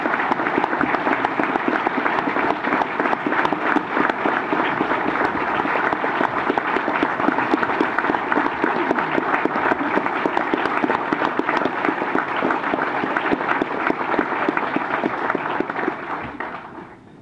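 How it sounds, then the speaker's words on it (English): A crowd applauds the university men's basketball team at a coaching announcement, sustained, dense clapping from many people that holds strong and steady for a long stretch before tapering off at the end, with no speech over it. "So let's give them a round of applause as well."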